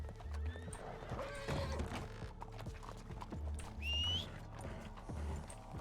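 A horse in the RedM western game neighs in a high whinny while its hooves clip-clop at a run, with people talking faintly underneath and a quiet game soundscape.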